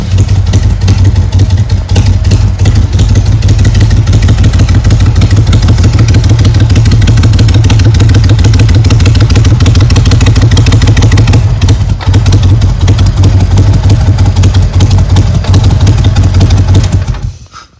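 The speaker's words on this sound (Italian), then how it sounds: "questa è la mia inseparabile California Stone rivisitata da me con dei pezzi dell'850, verniciata dalla mia compagna Arianna Cripp" A Moto Guzzi California Stone motorcycle, customised with parts from an 850, idles loudly and close by with a steady, throbbing V-twin rumble for about seventeen seconds before cutting off abruptly.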